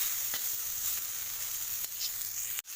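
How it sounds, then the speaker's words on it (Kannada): Green chillies with turmeric frying in a pan, a steady close hiss of sizzling oil with a few faint stirring taps and a brief dropout near the end. "ಗ್ರೀನ್ ಚಿಲ್ಲಿ ಹಾಕ್ಕೊಂಡು ಸ್ವಲ್ಪ ಚೆನ್ನಾಗಿ ಫ್ರೈ ಆಗಬೇಕು"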